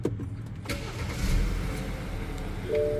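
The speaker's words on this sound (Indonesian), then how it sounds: "tekan engine start button di sebelah kiri sini untuk nyalakan mesinnya" A BMW 5 Series engine cranks and catches after a push-button start, then settles into a steady low idle, with a faint electronic tone near the end.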